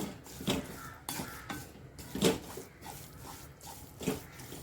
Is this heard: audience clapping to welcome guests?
no